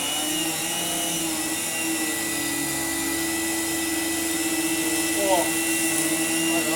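A Numatic NV200 vacuum cleaner fitted with a homemade powerhead drones steadily and continuously, with a tonal motor whine and airflow noise.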